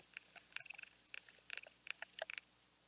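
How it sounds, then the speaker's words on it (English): Morgana the cat in Persona 5 Royal purring while being rubbed, a short run of soft pulsing bursts in even rhythm, near and quiet, heard alone. "I can rub Morgana now"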